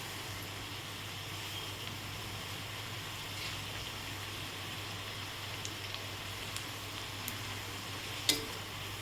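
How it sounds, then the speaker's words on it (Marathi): Spinach pakoras deep-fry in hot oil with a continuous, even bubbling sizzle and a few small pops, with no talk. "हे बघा, हे तळून एकदम तयार आहेत."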